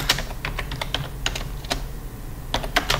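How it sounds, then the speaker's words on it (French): Short bursts of computer keyboard key presses, as for a Ctrl+X cut shortcut, click in an irregular rhythm, close and fairly crisp over steady low background hum. "ou bien avec le clavier, je fais CTRL X."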